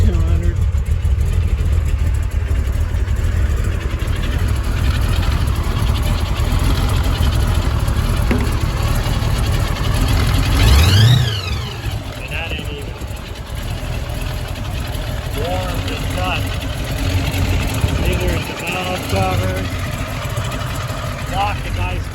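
Supercharged AMC Javelin engine idling after a cold start, a steady loud rumble running throughout with a brief rise and dip in pitch midway, voices talking faintly over it.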